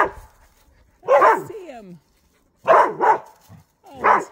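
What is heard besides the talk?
Australian shepherd puppies barking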